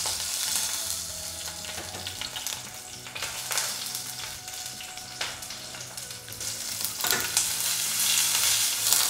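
Steady sizzling of chopped garlic frying in hot olive oil, with occasional stirring scrapes, close and continuous.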